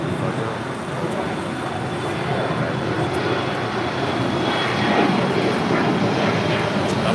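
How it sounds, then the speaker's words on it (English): An Iberia Airbus A350-900 arriving from Madrid lands on runway 25L at LAX, a broad steady jet roar swelling slightly toward the end, heard from a distance over light background traffic noise. "Iberia coming in from Madrid in this A350-900, arriving on 25 left"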